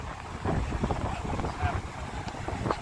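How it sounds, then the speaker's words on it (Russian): Strong sea wind at a beach buffets the microphone in steady low rumbling gusts, with faint surf-like hiss beneath. "Очень сильный ветер с моря"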